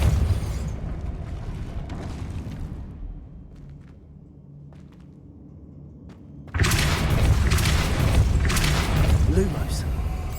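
Depulso spell cast in Hogwarts Legacy on PS5, a heavy magical thump and burst that swells into a loud, dense blast of debris and rumble in the second half, over steady game ambience.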